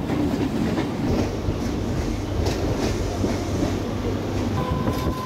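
A Mumbai local train runs along the Harbour line, a steady loud rumble of wheels and carriages with rhythmic clacking over the rails throughout, heard from on board.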